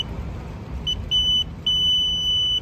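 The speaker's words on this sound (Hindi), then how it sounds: "चिप को आप जैसे यहाँ से पार करेंगे एक बीप का आवाज आएगा" A runner's timing chip crossing the mat at a police recruitment running test in Ranchi, setting off clear high electronic beeps, one short then longer sustained tones, over low background rumble.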